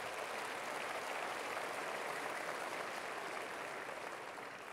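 Crowd at an En Marche political rally for Emmanuel Macron applauding, a continuous, even roar of many hands clapping, fairly distant and moderately quiet, tapering slightly at the end.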